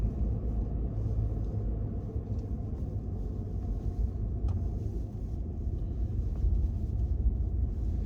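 2021 Ford F-150 PowerBoost hybrid truck accelerating on electric power, a steady low cabin rumble with road noise and no distinct engine note, continuous and even.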